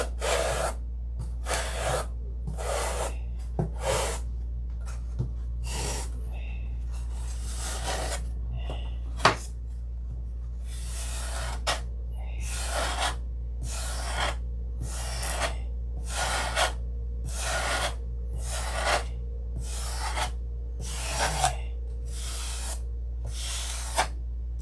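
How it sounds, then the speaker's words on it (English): Coarse 80 grit sandpaper rubbing a wooden Sig Magnum fishing lure in quick, regular back-and-forth strokes, each a short scratchy rasp separated by brief pauses, close and fairly quiet over a low steady hum. "Now this is 80 grit sandpaper, and that puts in some heavy duty scratches"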